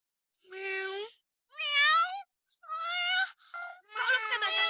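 A person imitates a cat with a series of four or five drawn-out, pitch-bending meows, voiced close and clear with short silent gaps between them.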